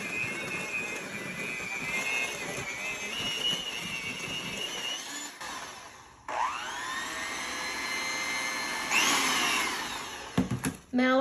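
An electric mixer whirs loudly and steadily through peanut butter oatmeal cookie ingredients, its pitch dropping and rising as the bowl load changes, then cutting out with a few clicks near the end.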